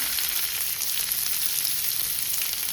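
Boiled breadfruit frying in oil for cutlets, a close, steady, hissing sizzle that holds even throughout with no talking.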